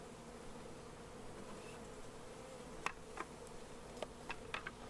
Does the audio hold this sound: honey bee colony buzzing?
yes